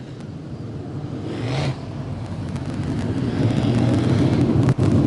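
Modified race cars rumble on track at Merrittville Speedway before a 35-lap feature, a steady loud engine drone with rising revs and wind buffeting.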